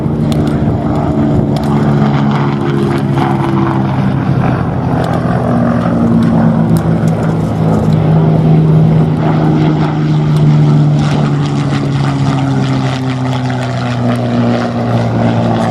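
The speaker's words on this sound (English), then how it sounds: "they have this big engine in the nose, driving a huge propeller" A Hawker biplane's big nose engine drives a huge propeller, droning loudly and steadily, a deep continuous hum with a slowly wavering pitch, close and unbroken throughout, at an airshow.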